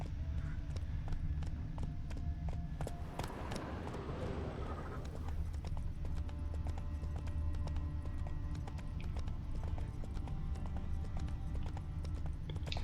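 Roach, a horse in The Witcher 3, gallops with a steady, rapid clip-clop of hooves over continuous low ambient noise, a brief voice and a swell of other sound breaking in partway through.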